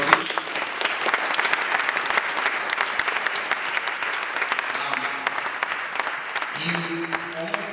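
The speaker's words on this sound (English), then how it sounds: "So one round of applause for Jodi Picoult, please." Audience applause at an evening author event at Harvard, a steady dense clapping from a large crowd that fills the whole stretch and fades slightly toward the end.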